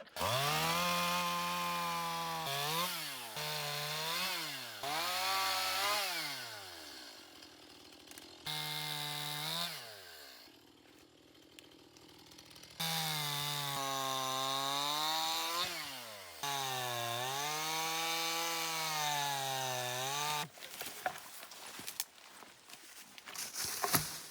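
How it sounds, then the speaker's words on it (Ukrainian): A large petrol chainsaw revs loudly in repeated bursts while clearing a hiking trail in the Carpathian Mountains, its pitch rising and falling as it cuts, with short pauses and some rustling and thuds near the end. "Перша йде команда великої бензопили."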